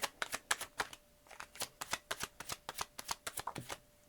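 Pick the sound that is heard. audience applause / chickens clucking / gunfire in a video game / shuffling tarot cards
shuffling tarot cards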